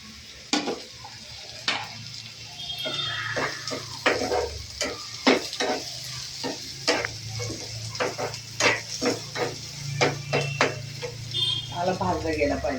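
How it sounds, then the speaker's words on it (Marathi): Onions fry in a pan for homemade paneer bhurji, with a constant sizzle under repeated sharp clinks of a spoon scraping and stirring. Someone speaks intermittently over the cooking. "आता कांदा भाजू द्यायचा थोडाफार."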